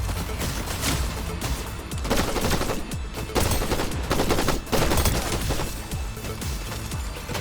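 Rapid bursts of gunfire in the Fortnite video game, shotgun blasts mixed with fast repeated shots, loud and dense with brief dips between volleys and no talk.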